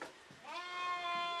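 Lambs bleat while a cow nurses four of them, a single drawn-out bleat rising clearly over a quiet farmyard background.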